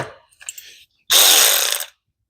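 A hose clamp is tightened down on an engine coolant hose of a Nissan Xterra, with a brief close metallic ratcheting burst after a few softer clicks and handling noises.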